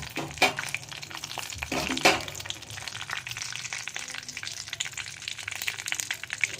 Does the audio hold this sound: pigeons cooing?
no